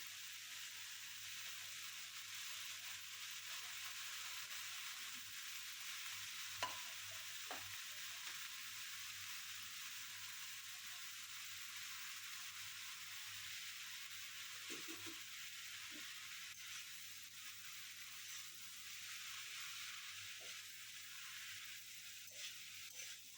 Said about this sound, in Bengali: রাঁধুনি ফোড়ন দিয়ে শাকটা ভাজি করব